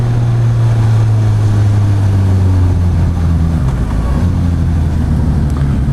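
A 2016 Suzuki GSX-S1000 motorcycle held in second gear on the clutch while riding, giving a loud, steady engine drone with a strong low hum and slight wavering in pitch.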